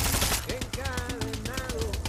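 Co-op gunplay in Far Cry 6 brings a quick string of evenly spaced machine-gun shots, close and punchy over about two seconds, with a voice talking over the firing.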